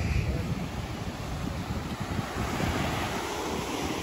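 Waves wash steadily onto a hidden beach at Cola Beach in South Goa, a continuous broadband rush of surf mixed with heavy wind noise on the microphone, with no talking.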